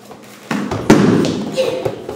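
Low punches land in a martial arts belt test, a couple of dull thuds striking a pad at close range, mixed with shouts and voices in a hall.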